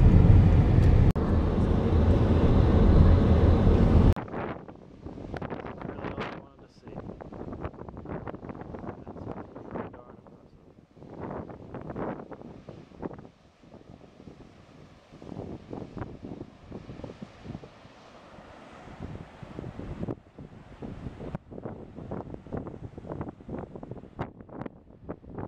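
Strong wind roars across the microphone on a winding mountain road in Hawaii, a heavy gust at first, then gusty rushes and buffeting that rise and fall.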